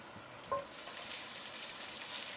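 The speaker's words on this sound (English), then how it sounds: "Then add the ginger and the green chillies into the pot" Ginger and green chillies frying in a pot for a Bengali fish curry, a soft steady sizzle after a brief clunk as they go in, faint and close.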